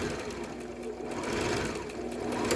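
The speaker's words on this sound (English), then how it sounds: "I put my finger in there and then push the rubber band up against my finger so that I can keep sewing a straight line" A sewing machine runs a straight line of stitches, a steady, close mechanical whir and rapid needle chatter that holds at an even level throughout with no speech over it.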